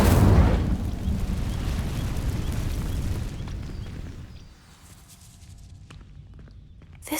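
Incendio fire spell setting dry vines ablaze in Hogwarts Legacy, a loud whooshing burst that settles into a steady crackling roar, dies down after about four seconds, then flares again briefly at the end; no voices.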